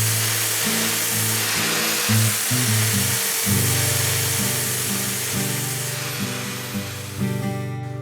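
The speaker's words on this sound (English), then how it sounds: "I'm gonna grind it with this pipe grinder in a vice grip" A pipe grinder grinds a forged steel nasal helmet held in a vice grip, a loud continuous whine and rushing grind close up whose pitch dips and shifts as the load changes, with no talk.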